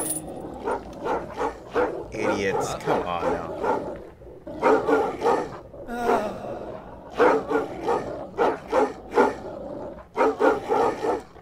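Dogs barking in the video game Lily: Colors of Santa Luz, repeated bursts of barking in clustered rhythm across the scene, with someone talking over them at times.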